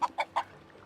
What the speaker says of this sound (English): Why are you running, chicken?